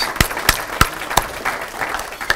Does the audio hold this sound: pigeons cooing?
no